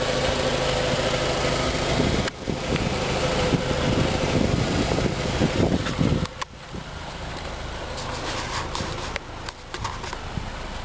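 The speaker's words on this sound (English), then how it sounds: "I love the sound of that Jetta" A 2003 Volkswagen Jetta GLS engine idles with a steady low rumble and a faint mechanical hum, broken by a few brief dips, heard close up with no one talking.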